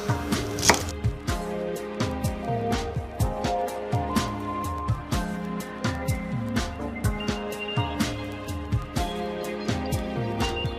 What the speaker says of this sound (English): we're going to cut a little bit of celery in it